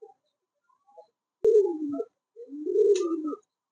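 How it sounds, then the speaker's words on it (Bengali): Bombay pigeons cooing nearby, a few soft clicks followed by two low throaty rolling coos in succession, clear and close with silence between calls. "বোম্বাই কবুতর, তাদের জন্য এই কবুতর আছে।"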